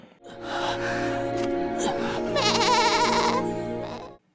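A baby goat, transformed from a giant ape in the animated series Throne of Seal, gives one long wavering bleat that rises and trembles for several seconds, loud and close.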